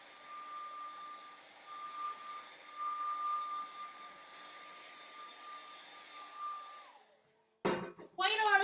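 A hair dryer blows steadily to dry paint on a Christmas gnome painting, a close whirring hum with a fluctuating airflow that cuts off near the end, followed by a person talking.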